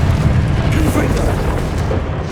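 A Confringo blasting spell explodes in Hogwarts Legacy, giving a loud, sustained booming rumble that stays heavy and dense across the whole moment, with a voice present over it.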